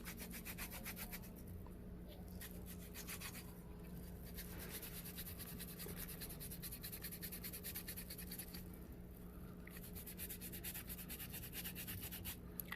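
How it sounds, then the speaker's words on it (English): Pumice stone scraping callused skin on a hand, a steady close rubbing and scratching texture running continuously throughout with no talking. "What the pumice stone does is soften that skin up more after you scrape it."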